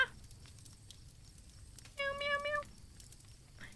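A human voice imitates a cat with a short nasal meow, quiet and brief amid near silence.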